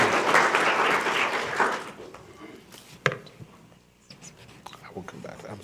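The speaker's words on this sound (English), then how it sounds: "So let's give her a round of applause." A school board meeting audience claps for about two seconds, a dense burst that fades into quiet room noise with scattered movement and a sharp knock.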